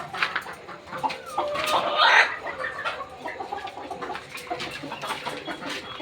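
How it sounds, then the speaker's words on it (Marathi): Desi chickens perched on roosting poles inside a poultry farm shed, clucking and murmuring continuously nearby, with one louder squawk near the middle and softer calls around it. "सगळे जे पक्षी आहेत आपले ते मध्ये येऊन बसलेले आहेत."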